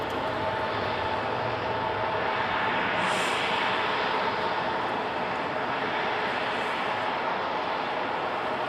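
American Airlines Embraer E-175 regional jets at Los Angeles International Airport give off a continuous, broadband jet engine roar that fills the whole stretch at a steady level with no pauses.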